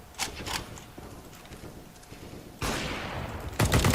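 Scoped rifle shots in CS:GO, sharp loud cracks with a couple of early reports, then a harsh burst near the middle-end and a final loud shot, against low game ambience.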